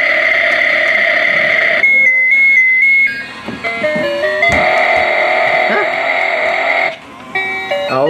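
A toddler's toy motorcycle with lights and sounds plays a loud, steady electronic tune made of bright beeping melody notes that carries on almost without a break, with a short change in the middle.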